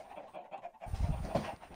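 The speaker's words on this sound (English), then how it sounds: "There's a lot of chickens." A big crowd of video game chickens, around two hundred penned together, clucking and panting in a soft continuous chatter, with a brief quiet patch before a denser, louder burst of fowl noise.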